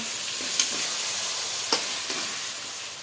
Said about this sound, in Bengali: এইভাবে মশলাটা একটু কষিয়ে নেব